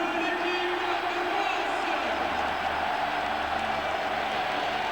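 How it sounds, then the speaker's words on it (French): A stadium crowd applauds the French rugby team as they enter their home ground for a 2005 Six Nations match against Wales, a dense, continuous wash of clapping and cheering with a commentator's voice over it. "Ils sont applaudis,"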